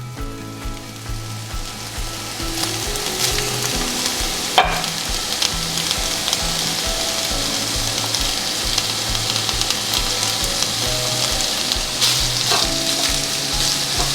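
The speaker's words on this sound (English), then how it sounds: "I added the onions, and I'm going to let them saute for a little bit, and then I will add the ham." Onions and ham sauté in a pan, a steady close sizzle and crackle that runs throughout, with occasional scrapes and clinks of stirring and no talking.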